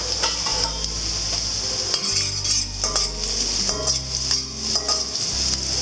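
Scallion whites hit a hot wok for egg fried rice, giving a loud continuous sizzle with repeated metallic spatula scrapes and clinks in a brisk stirring rhythm, close and prominent with no talk.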